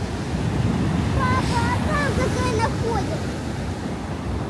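Heavy storm surf on the Black Sea at Batumi in snowy weather roars continuously with wind buffeting the microphone, while a few voices call out over the crashing waves.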